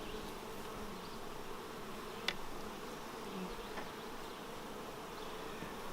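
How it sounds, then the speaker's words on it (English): Honey bees buzz steadily around an open hive being split, a dense close drone with a few louder passes of individual bees and no talking. "So we'll take a nice frame of capped brood."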